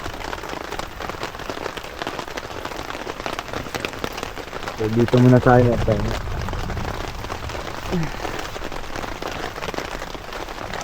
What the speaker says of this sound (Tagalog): So hindi naman masyado malakas yung ulan.